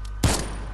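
Gunfire in a video game shooter match: a single sharp, close shot bursts out and quickly decays into a short ringing tail.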